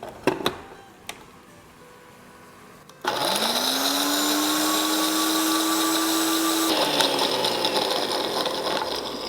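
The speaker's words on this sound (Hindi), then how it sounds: "तो चलें इसको पीस लेते हैं।" Electric grinder whirring steadily as it grinds cashews, almonds and poppy seeds for a boti kabab gosht masala, a loud continuous motor hum that starts abruptly after a few clicks and runs for several seconds before winding down.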